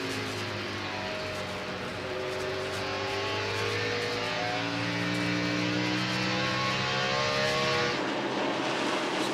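A NASCAR stock car engine at Richmond Raceway during the 1999 Exide NASCAR Select Batteries 400, loud and sustained for several seconds with a steady roar that climbs in pitch and then drops sharply near the end.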